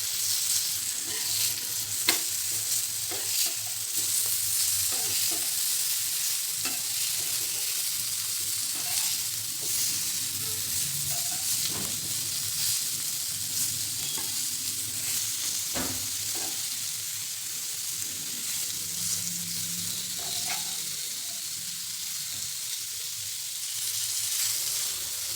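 Stuffed bitter gourds fry in a pan with a steady, moderately loud sizzle and occasional small pops and spatters, with no one speaking throughout.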